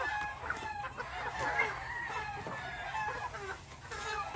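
Hens in a Battlecross breed flock cluck and crow in a steady, busy chorus, fairly near and continuous throughout, with a faint voice briefly under the birds.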